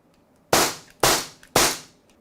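Three sharp Beretta Mod 84 FS BB pistol shots fire in even succession about half a second apart, each a loud close crack with a quick decaying tail.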